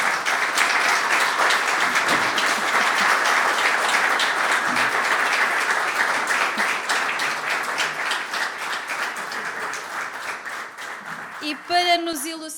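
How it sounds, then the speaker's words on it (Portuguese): A ceremony audience gives sustained, dense applause for a new honorary member, an engineer. The clapping fills the room at a steady level, then thins toward the end as a voice begins speaking. "Eu peço por favor só que se levante para receber uma grande salva de palmas."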